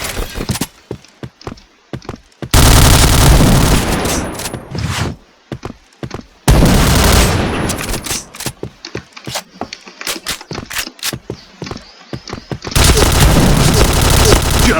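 KRISS submachine gun fire in a shooting video game comes in loud, dense automatic bursts separated by short gaps, with scattered single shots and game effects between them.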